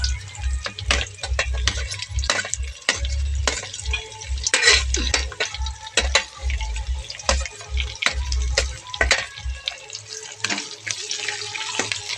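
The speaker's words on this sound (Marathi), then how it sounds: "कांदा खूप छान तळू द्यायचा" Onion sizzles and crackles in a hot pan for khichdi, a steady frying hiss broken by frequent clicks and stirring scrapes, close and moderately loud with no talk.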